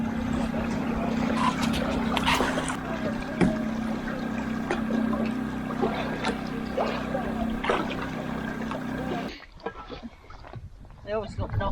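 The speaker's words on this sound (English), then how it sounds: "which is why we're motoring, which is a bit of a shame we're motoring" A sailboat motors along under engine power, with a steady engine drone and water rushing against the hull. Wind buffets throughout, and the sound drops away sharply near the end.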